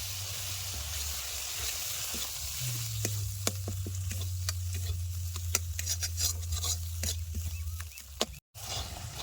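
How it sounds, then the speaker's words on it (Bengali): Coriander powder, cumin powder and cashew paste sautéing in oil in a village kitchen, giving a soft continuous sizzle broken by frequent crisp spatters and stirring scrapes, with a low hum underneath and a brief dropout near the end. "ধনিয়ার গুঁড়ি আর দেবো জিরার গুঁড়ি আর একই সাথে দিয়ে দেবো কাজু বাদাম বাটা এই সমস্ত মশলা আবার ভালো মতো কষাই নেবো"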